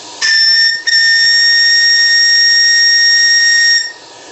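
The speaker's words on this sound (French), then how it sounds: "Ton sifflet marche formidablement à une pression de service de 3 bars." A steam whistle on a live steam model boat, fed by its boiler at 3 bar, blows loud and close with a shrill, steady multi-tone shriek, briefly interrupted once, then sustained for about three seconds before cutting off with a hiss.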